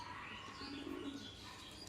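A Madras pigeon coos softly in a short, low burst, with faint chirps and a steady background hiss around it.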